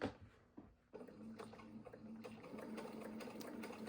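Sewing machine stitching a curved fabric seam slowly with a 1/4 inch seam allowance, a close rapid mechanical whirring and ticking that pauses briefly near the start, then runs continuously, with no talk.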